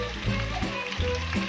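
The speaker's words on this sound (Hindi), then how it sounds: "अब हम इसको पहले फ्राई कर लेते हैं" Chicken pieces frying in hot oil in a pan for restaurant-style chilli chicken, a steady close sizzle with periodic soft bursts as pieces are moved, no talking.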